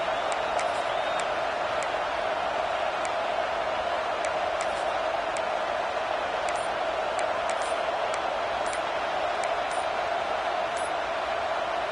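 Stadium crowd in Madden 24 during a red-zone third down in a college football game, a continuous loud roar of massed voices with faint ticking clicks sprinkled over it, steady from start to finish.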